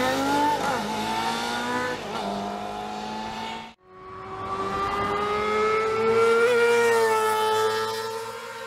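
A 1987 Suzuki GSX-R250 four-stroke motorcycle, rated at 45 horsepower at 14,000 RPM with a 17,000 RPM redline, screams at high revs in a smooth, rising wail, briefly cutting out once at a gearshift before climbing again.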